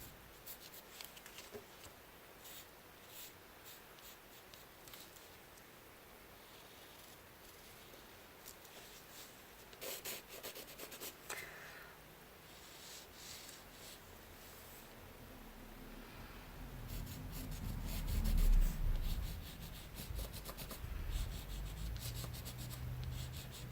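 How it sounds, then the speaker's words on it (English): Pen strokes rub and scratch across paper in loose, continuous tracing and sketching, faint and close, with louder scuffing and handling near the end and no talking. "So we just kind of loosely are tracing, drawing, sketching."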